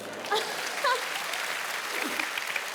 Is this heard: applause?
yes